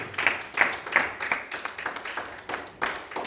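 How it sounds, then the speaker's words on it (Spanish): A church congregation claps during an afternoon service, sharp distinct hand claps landing in a loose repeating rhythm with short gaps between them. "Denle un aplauso al Señor Jesús"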